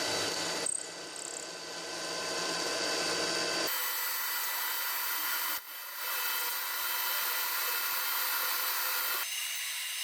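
A power drill bores an oil supply hole into a machined bushing for a Hyundai H1 Starex cylinder head repair. The whine is steady and fairly loud, with the pitch shifting between a few passes as the load changes.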